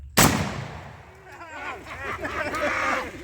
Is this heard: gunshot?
yes